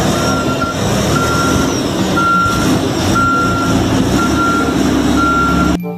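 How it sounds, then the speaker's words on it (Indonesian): A toy tow truck gives loud, evenly spaced electronic reversing beeps, about six in a steady rhythm, with a rough mechanical hum underneath until it cuts off abruptly near the end. "Mobil truk derek."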